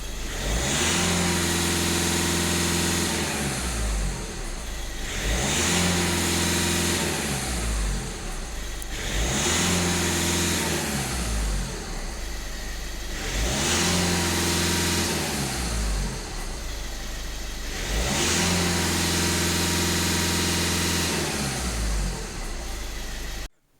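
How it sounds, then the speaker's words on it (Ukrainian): The 1.6 TDI diesel engine of a VW Touran revs repeatedly from idle, with five long throttle swells rising and falling in a steady cycle, loud and close throughout. "Зараз дамо прогазовку. Даю прогазовку."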